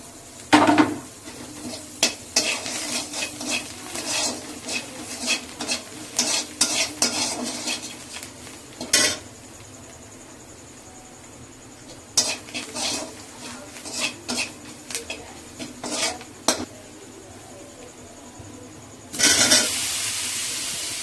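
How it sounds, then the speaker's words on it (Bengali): Potatoes with coriander leaves stirred in a frying pan, with repeated close metal spatula scrapes and clanks in irregular bursts over a soft sizzle, a quiet stretch in the middle, and a louder burst of sizzling at the end. "এবার দিয়ে আলুটা দিয়ে হালকা একটু নেড়ে দেবো।"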